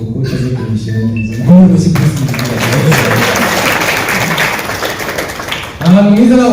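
An audience at a comedy show claps in a sustained, dense burst of applause, with a loud voice speaking over it at the start and end.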